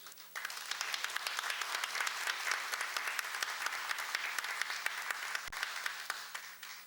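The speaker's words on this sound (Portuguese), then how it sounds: "pedir para vocês todos que homenageassem com uma salva de palmas." Sustained applause from an audience filling a ceremony hall during a formal honorary citizenship session in Brasília, dense steady clapping at even loudness throughout, with no voices over it.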